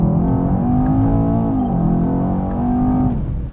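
2018 Mercedes-Benz E63 AMG, close and loud, with a deep engine note rising and falling through a strong acceleration and easing off at the end.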